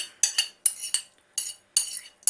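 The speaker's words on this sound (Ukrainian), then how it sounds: "перемішуємо грибочки. І все додаємо до нашої картоплі." A spoon stirs mushrooms into a bowl of potato filling for dumplings, giving a series of bright clinks and scrapes against the dish in uneven bursts, close and moderately loud, with no talking.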